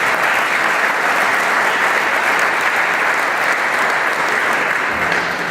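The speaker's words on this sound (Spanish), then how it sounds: "Aplausos." An audience at a brewing conference talk breaks into sustained, even applause, a loud continuous wash of clapping throughout.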